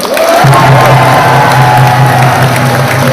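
At a political party convention after an acceptance speech, a large crowd claps and cheers in a steady, dense wash of applause, with a low sustained tone underneath.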